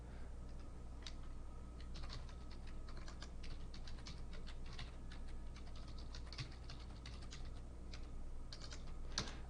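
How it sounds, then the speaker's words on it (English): Typing on a computer keyboard, a steady, fairly quiet patter of light key clicks over several seconds, with no talking. "hey, I'm typing here."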